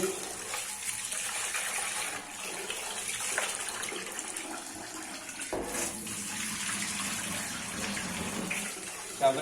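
Rice is rinsed under running water, a steady gushing splash from a tap continuing throughout with faint sloshing and clinks, and no clear talking.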